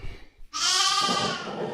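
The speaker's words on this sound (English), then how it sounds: "Don't mind my sheep." A sheep bleats loudly and close by in a single sustained, wavering call of about a second and a half, starting after a brief quieter moment inside an indoor setup.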